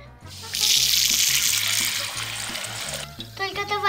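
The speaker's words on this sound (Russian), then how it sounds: "Но пойдем набирать воду." A tap runs into a sink, a loud steady rush of water filling the basin for about three seconds before it stops, with gurgling and a sustained low tone underneath.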